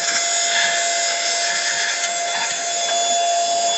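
A SHLNLI cordless handheld car vacuum running in blower mode to blow dust out of small spaces, giving a steady high-pitched whine that stays loud and even throughout.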